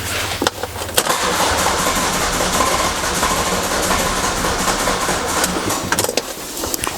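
A car engine cranking over and over without catching, a steady churning whir under a few clicks and knocks, during a DIY timing belt job.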